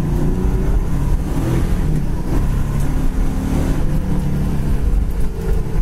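A black 1970 Chevrolet Camaro idles with a deep, rumbling V8 burble, loud and close, pulsing steadily with slight rises in revs throughout, no talking over it.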